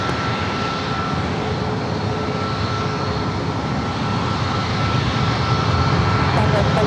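A Southwest airliner takes off from runway 27 at San Diego airport, a loud, steady broadband engine roar filling the whole stretch without letting up.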